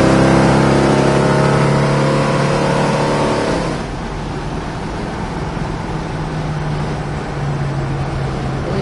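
A 1970 Plymouth Cuda pulls away with a loud, rising engine roar that climbs steadily for nearly four seconds, then eases off into a lower steady cruising drone with tire and road noise for the rest of the drive.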